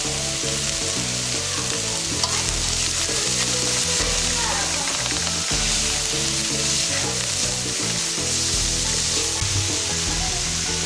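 Vegetables fry in a pan for cauliflower fried rice, giving a steady loud sizzle with the scrape and clatter of stirring throughout.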